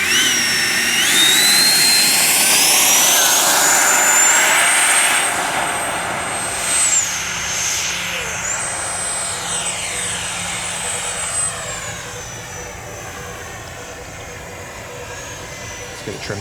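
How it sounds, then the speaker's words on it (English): An FMS Rafale 80mm model jet's turbine whines loudly overhead on its first flight, with high pitch sweeps rising and falling as it passes and fades into the distance. "The jet rolls crisply and has a ton of pitch authority, and it sounds incredible too."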